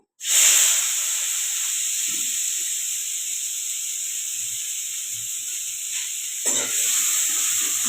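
Chopped onion hits hot oil with popped mustard seeds while cooking sandgyachi bhaji, bursting into a loud sudden hiss that settles into a steady close sizzle, with a brief flare near the end.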